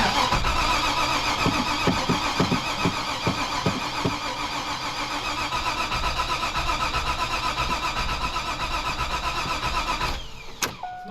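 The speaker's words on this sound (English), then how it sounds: "This thing won't start." A Corvette engine cranks repeatedly without catching, with rhythmic starter chugs for several seconds, then a steady whir until it stops near the end, loud and close.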